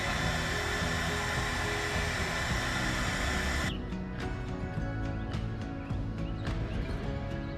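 A hair dryer blows hot air onto the old badging of a 1998 Mustang Cobra, a loud steady whoosh that cuts off about halfway, leaving a few faint clicks and taps.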